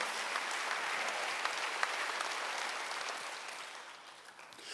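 A church congregation at a Wednesday worship service claps together, a dense sustained round of applause that fades slightly toward the end.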